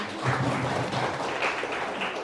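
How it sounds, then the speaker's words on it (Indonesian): An audience at a school gathering claps in a dense, even burst that holds steady for a couple of seconds at moderate volume. "Boleh tepuk tangan lagi"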